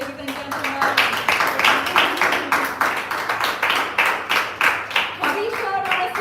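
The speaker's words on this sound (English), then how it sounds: "Let's keep the applause going," Audience applause at a live employee speech competition event, steady rhythmic clapping from a crowd lasting throughout, fairly loud and close, with a voice speaking briefly over it.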